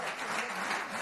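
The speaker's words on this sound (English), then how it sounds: "Mary gets applause from the audience on CNN at a Nancy Pelosi town" Brief burst of audience applause at a CNN town hall with Nancy Pelosi, a soft, dense patter of many hands heard at a distance.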